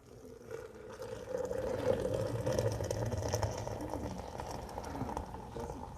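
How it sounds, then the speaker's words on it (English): Water poured steadily from a kettle into a coffee maker up to the 24-ounce mark, a continuous close liquid stream lasting several seconds with faint background noise. "Pour the water."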